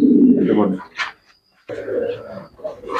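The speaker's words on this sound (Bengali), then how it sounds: "আর এগুলো হচ্ছে পাকিস্তানি টেরি কবুতরের বেবি" Close cooing of Pakistani Teddy pigeon chicks mixes with a man's speech, with a short quiet gap in the middle.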